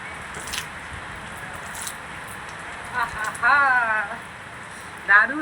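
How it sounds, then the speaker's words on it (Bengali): Heavy morning rain falls steadily on a rooftop as water pools, a constant close patter with a voice talking over it near the end. "বেশ জোরে বৃষ্টি পড়ছে দেখতে পাচ্ছ কি আরে জল জমে গেছে"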